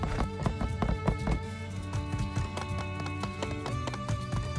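Horse hooves clop in a quick running rhythm across desert ground in the My Time at Sandrock video game, steady and moderately loud against a soft game background.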